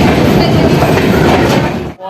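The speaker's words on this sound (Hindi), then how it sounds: "ट्रेन हमारी अराइवल हो रही है मधुबनी डिस्ट्रिक्ट के मधुबनी रेलवे स्टेशन पर" Garib Rath Express coaches roll into Madhubani station with a loud, close rumble and rhythmic clickety-clack of wheels over rail joints, cutting off abruptly at the end.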